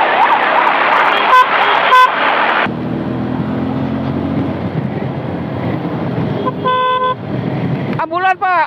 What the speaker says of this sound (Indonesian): Ambulan, Pak.